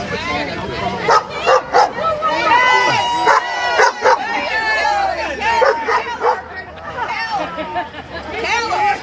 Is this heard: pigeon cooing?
no